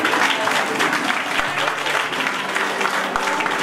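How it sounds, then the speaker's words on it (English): Parents and guests at a school rhyme-time program clap for young pre-primary children. The crowd produces steady, fairly loud applause, with faint voices mixed in underneath. "I request you all to give one more round of applause to them"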